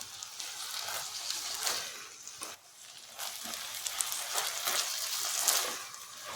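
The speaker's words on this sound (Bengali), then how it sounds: "এখন একটু ভেজে নিই এটা।" Rice sizzles and crackles in a hot pan on a gas stove, a steady broadband frying hiss with soft irregular pops, close and moderately quiet, with no voices.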